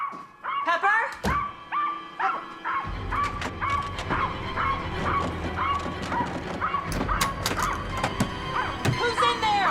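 Pet dog Pepper whimpering and yipping inside a haunted house, a run of short high yelps and whines repeating throughout amid clattering, with people speaking over parts of it.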